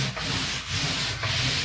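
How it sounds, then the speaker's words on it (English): Lysol disinfecting wipe rubbed across a table surface in steady back-and-forth strokes, a close, continuous swishing friction with brief dips between passes, no talking. "So I take the Lysol wipe and just wipe down all the surfaces of my table."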